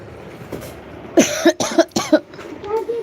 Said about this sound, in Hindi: इस समय थोड़ा खांसी बहुत ज़्यादा आ रहा है